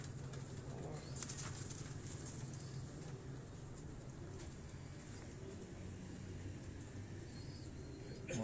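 Teddy pigeons in a loft give low, steady cooing under a constant faint background hum, with occasional brief rustles, sustained throughout at low level.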